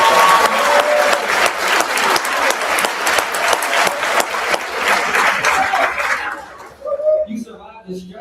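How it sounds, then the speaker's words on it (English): Graduation ceremony crowd breaking into loud, sustained applause with scattered cheers and voices, the clapping fading out after about six seconds into quieter crowd chatter. "Give yourself a round of applause."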